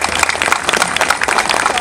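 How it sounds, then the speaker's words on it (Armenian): A crowd applauding women and girls at a public political gathering, dense, steady clapping from many hands that fills the whole moment with no break. "կանանց եւ աղջիկներ, եկեք ծափ տակ նրանց"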